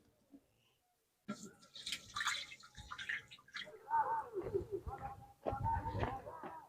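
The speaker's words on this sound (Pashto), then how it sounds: "یو ځل شیدو ته څو اوبه ور واچوم." Water poured into milk, a close splashing and gurgling stream in several bursts, with people talking over and between the pours.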